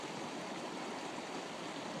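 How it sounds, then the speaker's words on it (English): Running water rushes steadily, a continuous broad hiss like a flowing stream, fairly soft and unbroken, with no voices or other sounds over it. "that is running water"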